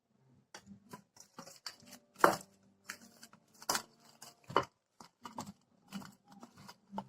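Rice flour dough being kneaded by hand in a bowl with a sprinkle of milk, giving soft irregular squishing and patting sounds in uneven bursts, close and fairly quiet with no talking.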